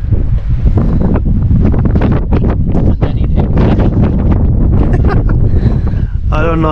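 Strong wind gusts buffet the microphone on a high mountain summit during a Christmas Day hike at Hertz Mountain, a loud, continuous roar with rustling bursts throughout and a brief voice at the end.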